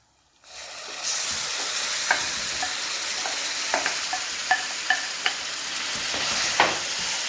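Chicken in green masala for Hyderabadi green chicken cooks in a pan with a loud, constant sizzle and hiss. A spatula stirs it with occasional sharp scrapes, and no one speaks.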